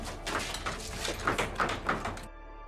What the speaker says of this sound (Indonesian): menutup pintu dan menguncinya